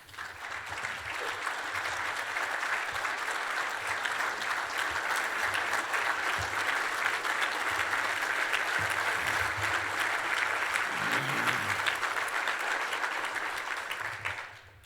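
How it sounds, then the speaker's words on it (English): Sustained audience applause at an acceptance speech event, steady and full for about fifteen seconds, with no voices over it before it trails off at the end. "Anna, please stand for a round of applause."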